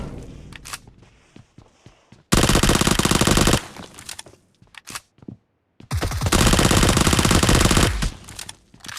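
Automatic gunfire in the video game Free Fire comes in two long, loud, rapid bursts, separated and framed by quieter footsteps and scattered single shots.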